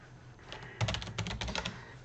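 A short burst of quick computer keyboard keystrokes as an IP address is entered for firewall port forwarding, the clicks close and crisp, starting after a brief quiet moment and continuing in a rapid, uneven run.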